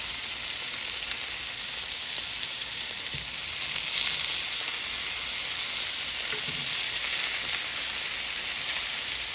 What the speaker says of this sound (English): Alright, so we're going to cook the meatballs on this side